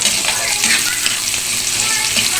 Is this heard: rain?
no